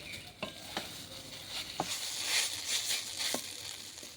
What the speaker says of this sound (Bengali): এটা দশ পনেরো মিনিট মতো হালকা আঁচে ভাজতেই থাকবো এটা সমানে নাড়িয়ে যেতে হবে